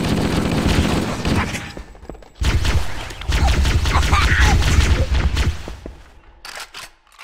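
Gunfire in Halo: Combat Evolved, a loud, dense barrage of rapid automatic shots with a brief gap, then another sustained burst that thins out into scattered shots and fades; no talking.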